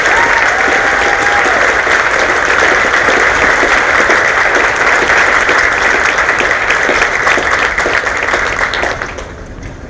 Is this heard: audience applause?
yes